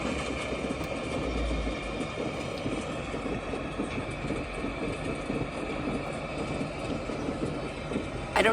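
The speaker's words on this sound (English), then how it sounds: "This is called the passenger train." A passenger train sound played from a phone app: continuous rumbling rail noise with a steady rhythmic clatter, fairly loud and unbroken, with no talk over it.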